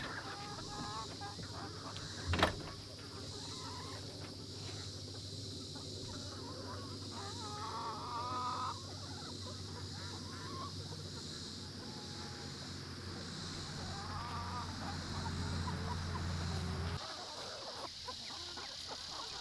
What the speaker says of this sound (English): These are the light Brahmas, and for some reason they just stay in here.